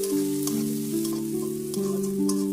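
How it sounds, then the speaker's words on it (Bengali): Vegetables frying with curry leaves and salt in a pan for a noodle-style dish, giving a steady close sizzle with a strong, even hum underneath and a few brief stirring clinks. "নুন দিয়ে ভালো করে সবজিটা ভাজা ভাজা করে নিলাম"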